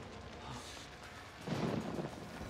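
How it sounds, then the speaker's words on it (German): A thunderstorm in the horror video game Outlast: a low, heavy thunder rumble swells in halfway through over a steady wash of rain and wind, fairly loud and close. "Und Gewitter ist auch normal."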